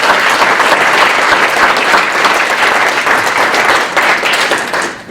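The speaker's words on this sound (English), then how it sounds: "Give our coaches an applause." Audience applause for track and baseball coaches at a Piqua athletic hall of fame induction, loud, dense clapping that holds steady for several seconds and then fades, with almost no talk over it.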